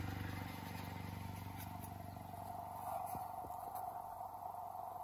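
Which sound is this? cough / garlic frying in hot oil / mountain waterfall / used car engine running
used car engine running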